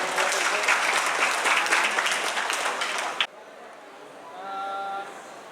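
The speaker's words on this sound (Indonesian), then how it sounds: "Tepuk tangan buat semuanya" A crowd at a fifth-anniversary fundraising gathering for Aceh gives loud, dense applause for about three seconds before it cuts off abruptly into a quieter room with faint background sound.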